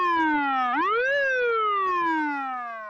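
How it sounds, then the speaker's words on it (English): A siren on a former fire department kei truck wails loud and close, its steady electronic tone dipping and then sweeping back up before slowly falling away, with no talking. "Many still have their lights, sirens, and a PA system."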